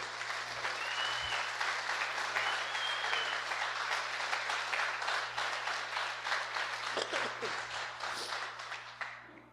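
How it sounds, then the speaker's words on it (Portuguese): Congregation at a Sunday evening church service bursting into sustained applause, dense clapping from many hands filling the room and tapering off at the end, with faint voices mixed in. "dá uma salva de palmas a Deus"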